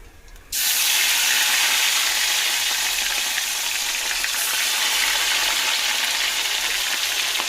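Pieces of katla fish drop into hot oil and fry with a sudden loud, dense sizzle that starts abruptly and stays steady and close.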